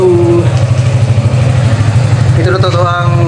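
A Suzuki Gixxer SF sport motorcycle idles steadily with a low, pulsing engine note, while someone talks over it nearby throughout.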